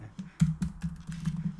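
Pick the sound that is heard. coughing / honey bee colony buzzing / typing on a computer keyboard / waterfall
typing on a computer keyboard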